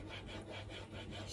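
A new chisel is drawn backwards and forwards across a sharpening stone in a steady rhythm of soft rasping strokes, faint and close, with no talking.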